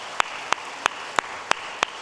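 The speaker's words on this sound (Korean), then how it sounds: "박수로 영광 올려드리겠습니다" Six evenly spaced claps ring out in a steady rhythm, led by the worship leader during a Sunday daytime church service as the congregation gives glory in praise, crisp and fairly close in an otherwise quiet room.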